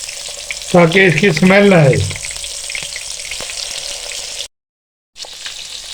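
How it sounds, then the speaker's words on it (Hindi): Fish frying in hot oil for a fish curry, a loud continuous sizzle with someone speaking briefly over it, followed by a short silent gap before the frying resumes. "ऑयल हमारा गर्म हो चुका है, अब हम इसमें फिश रख देंगे। 3 से 4 मिनट हम इसको फ्राई करेंगे एक साइड से,"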